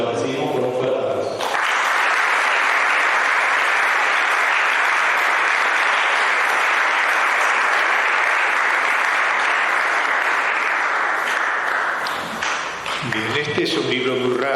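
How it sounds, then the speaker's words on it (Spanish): Sustained audience applause from a crowd welcoming a book presenter, dense and steady for about ten seconds before fading, with speech at the start and end. "Lo recibimos con un fuerte aplauso."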